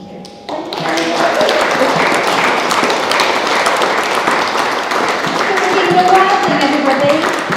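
A crowd claps steadily and loudly, dense applause filling the space after a brief quiet start, with some voices mixed in.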